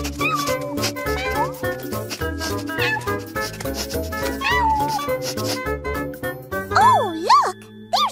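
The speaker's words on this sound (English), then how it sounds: "Let's follow those meows and find the last kitten." Cartoon kitten meows rise and fall in short calls over a busy musical background, with a couple of louder, sliding mews near the end.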